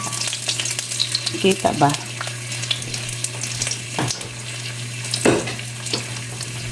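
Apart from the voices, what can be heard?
sautéing ginger in a pan for pork asado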